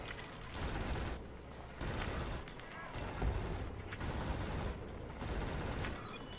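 Gatling gun fire in the video game Killzone Shadow Fall, long sustained bursts of rapid automatic shots separated by short pauses, dense and loud throughout.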